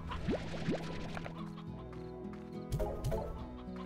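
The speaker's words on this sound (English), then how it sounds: "Sure, we have briar hens out here somewhere." Briar hens cluck in the video game Slime Rancher, several short rising clucks in quick succession over a busy background of game music and ambience, with no talking.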